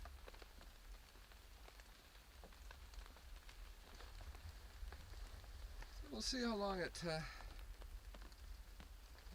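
Steady rain patters throughout, with a person talking briefly partway through over the soft, continuous hiss of falling drops.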